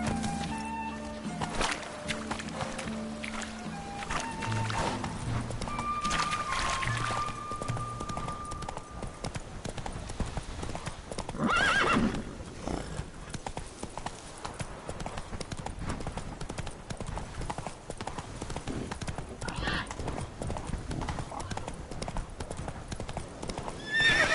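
Roach, the horse in The Witcher video game, gallops with steady, continuous hoofbeats and lets out a whinny partway through, layered over game ambience.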